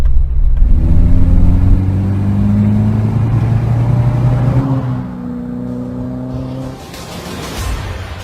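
A Ford Pinto engine in a Ford Escort Mk2 RS2000 classic car drones and revs through the gears, a steady mid-pitched rumble rising and falling as the car drives, with no voices.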